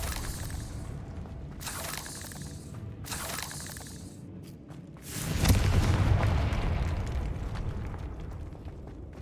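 Confringo fire-blast spell explosions in Hogwarts Legacy: a few sharp crackling bursts early on, then a loud, rumbling blast that swells and lingers as a sustained roar.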